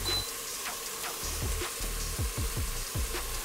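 Chicken browns in oil inside an Instant Pot, giving a steady, close sizzle and frying hiss with a few soft scraping taps from stirring.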